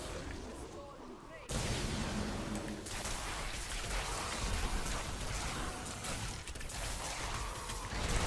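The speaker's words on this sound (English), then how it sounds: "explosions" Explosions in the action role-playing game Diablo 3 during a hardcore Monk run, a dense crackling, rumbling barrage bursting in loudly after a quieter opening and continuing as a rough, noisy wash throughout.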